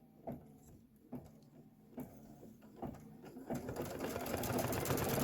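Sewing machine stitching a quilting pattern for a Kimberbell Main Street fire station project: rhythmic mechanical whirring with regular clunks about once a second, growing louder and denser toward the end, no talk.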